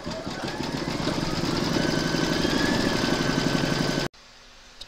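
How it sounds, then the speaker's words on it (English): An embroidery machine stitching down an appliqué fabric piece in a hoop: a steady, close mechanical whirr with a rapid rhythmic needle chatter that stops abruptly near the end, leaving quiet room noise. "Pop your hoop into your machine and stitch round number 6 to secure it."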